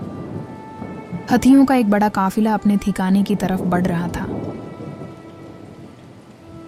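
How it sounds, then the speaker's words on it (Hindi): Heavy rain pours down on a stormy night in a jungle, a dense steady roar with rumbling thunder underneath, while a narrator speaks over it for several seconds. "जंगल में एक खौफनाक और तूफानी रात थी।"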